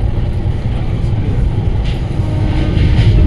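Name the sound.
Dhauli Express train running at speed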